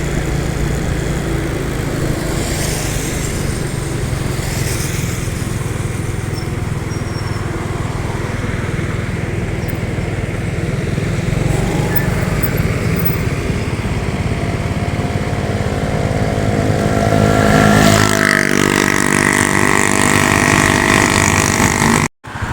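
The engine of a Sembodo Sweet Combo bus at the Alang-Alang Lebar terminal in Palembang runs close by as a loud, steady drone, swelling near the end before cutting off abruptly.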